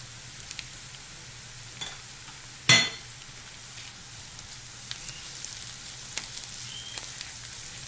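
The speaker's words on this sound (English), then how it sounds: "Mix that in with the garlic and the onions really well." Smoked salmon sizzles steadily in a pan with softened onions and garlic, a soft continuous frying hiss with a single sharp clink of a utensil partway through and no talk.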